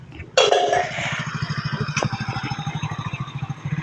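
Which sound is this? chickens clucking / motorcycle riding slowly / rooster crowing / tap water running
motorcycle riding slowly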